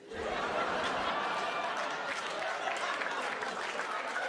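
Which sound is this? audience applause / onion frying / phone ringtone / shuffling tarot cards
audience applause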